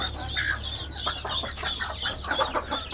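Broody hens on a farm cluck continuously with their chicks, a busy chorus of close, overlapping clucks and peeps over a low steady background hum.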